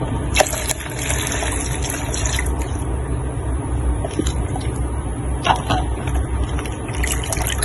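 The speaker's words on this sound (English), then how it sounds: "so I'm going to add my white vinegar" White vinegar pours into a glass cleaner mixture, a steady gushing liquid stream with a few small clinks, close and fairly quiet, with no talking.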